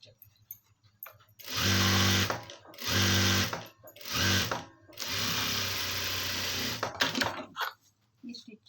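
A sewing machine stitches garment lining in bursts: three short runs, then a longer continuous run, each a close, loud mechanical whir with quiet pauses between.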